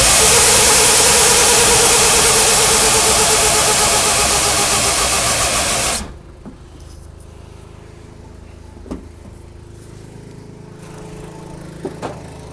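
Mack B61 truck engine cranking over on the starter, a loud, dense mechanical roar that runs steadily for about six seconds, then stops abruptly, leaving quiet background with a few faint clicks and knocks.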